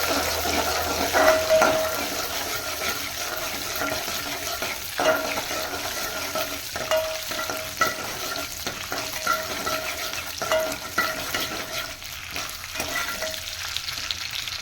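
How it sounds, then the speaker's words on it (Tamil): Steady crackling sizzle of horse gram frying in hot oil until browned, with occasional scraping stirs and small pops, close and continuous throughout. "கொள்ளு வந்து நல்லா வதக்கணும் கொஞ்சம் ப்ரௌன் கலர் வர அளவுக்கு வதக்கணும்"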